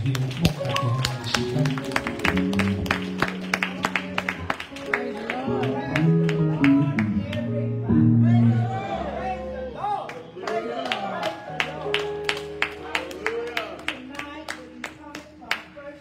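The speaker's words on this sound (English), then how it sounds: "Come on, clap your hands." A church congregation claps along in a steady rhythmic beat, sharp regular hand claps over music and singing voices, loud and close throughout.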